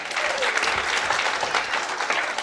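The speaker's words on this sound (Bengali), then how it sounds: "তবে অবশ্যই একটু করতালি আবারও" Audience applause at a corporate best-seller award ceremony, a steady wash of many hands clapping together in a hall, even and sustained throughout.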